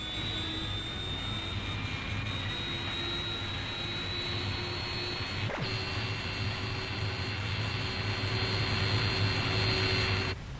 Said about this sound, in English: During routine training, aircraft take off and land in an almost continuous stream